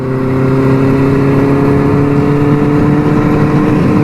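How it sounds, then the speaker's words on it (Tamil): Four-cylinder engine of an older Benelli 600i motorcycle cruising, a loud, smooth, steady hum with strong even tones and no gear changes, heard close and alone. "4 சிலிண்டர்ஸ்னால தான் இந்த சவுண்டு வருது. க்ரூஸ் பண்ணுற சவுண்டு பாருங்கள்."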